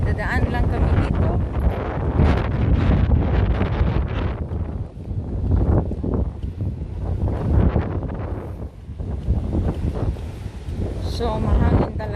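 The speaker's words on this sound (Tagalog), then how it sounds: "So mahangin talaga." Strong wind buffets the microphone at Maspalomas beach on Gran Canaria amid big waves, a loud continuous low roar and rumble with gusts throughout, while a person speaks over it.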